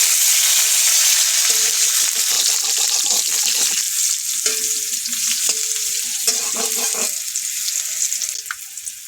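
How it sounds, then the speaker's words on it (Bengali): Sliced eggplant frying in hot oil in a wok, with loud, steady sizzling throughout and occasional scrapes and stirs of a spatula close by. "কড়াইতে তেল দেবো বেগুনগুলো ভেজে নেব"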